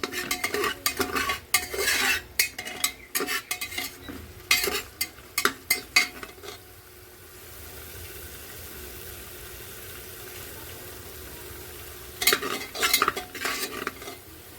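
Bottle gourd greens frying in a pan, with bursts of spatula scraping and stirring over a steady sizzle, then a quieter stretch of plain sizzling before more stirring near the end; no voices.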